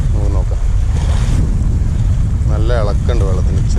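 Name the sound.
choppy harbour water and light wind while fishing, Kerala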